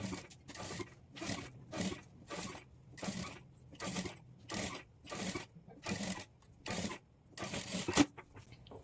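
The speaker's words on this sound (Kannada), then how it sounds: "ಸ್ಟಿಚ್ ಮಾಡಿಕೊಂಡು ಈಗ ಇದನ್ನು ಫೋಲ್ಡ್ ಮಾಡಿಕೊಂಡು ಪೈಪಿಂಗನ್ನು ಸ್ಟಿಚ್ ಮಾಡ್ಕೊಳ್ಬೇಕು" A sewing machine stitches piping onto a work blouse in a run of about eleven regular bursts of rapid mechanical chatter with brief gaps between them, close and moderately quiet, with no voice.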